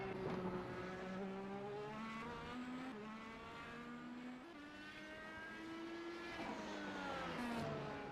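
IndyCar race cars lapping Road America in iRacing, several engines droning and shifting pitch as they pass, steady and fairly loud with no talk over them.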